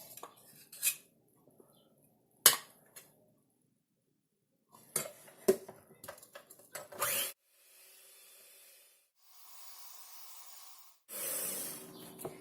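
Spoon clinking and scraping in a bowl as sugar and Dalgona coffee mix are stirred together, in scattered bursts with quiet pauses and a few longer whisking stretches toward the end.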